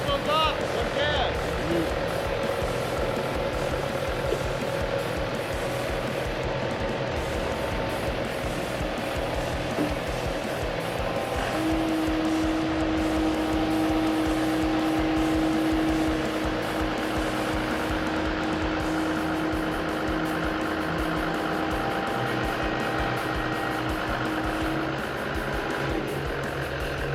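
A Morooka MST 1100 tracked carrier with a straight-six engine runs steadily at close range. A constant heavy drone fills the whole stretch, and a steady whine rises partway through. Someone speaks over the engine.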